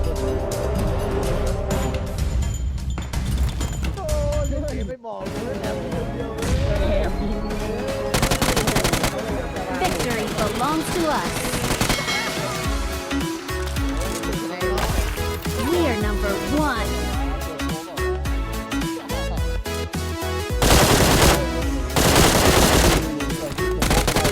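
Rapid bursts of automatic gunfire in PUBG Mobile crackle almost nonstop over a busy, loud mix of explosions and engine noise, with excited voices shouting throughout.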